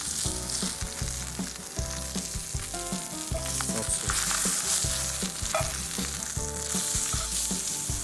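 Steak searing in a hot pan, a loud, continuous close sizzle and crackle that holds steady throughout with no voices.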